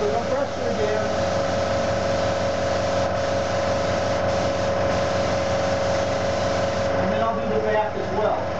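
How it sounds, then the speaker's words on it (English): An air compressor runs steadily throughout, a constant mechanical hum and whir at moderate level, with a tonal drone and no clear pauses. "There goes the compressor again."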